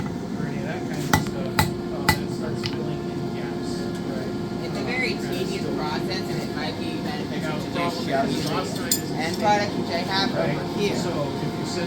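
A blacksmith shapes hot forge-welded iron for a gate latch: three sharp, ringing hammer blows come early, then someone talks over a steady background hum.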